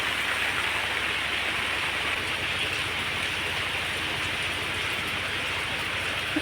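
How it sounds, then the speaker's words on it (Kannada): Rain falls steadily and evenly throughout, a dense, continuous hiss at moderate loudness with no voices over it. "ಗೌರಿ ಮಳೆ ಬರ್ತಾ ಉಂಟು ಮಾತ್ರ ನೋಡಿ ಈಗ ಬರಲಿಕ್ಕೆ ಸ್ಟಾರ್ಟ್ ಆದ್ದು"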